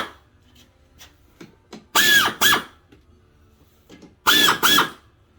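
Two pairs of short, loud power-tool bursts with a whining squeal ring out while a fitting is tightened during heater core installation on a 1967 Chevrolet C10 pickup, separated by quieter handling clicks and shuffles.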